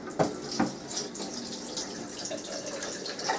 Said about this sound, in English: I'm just giving the bowl a rinse.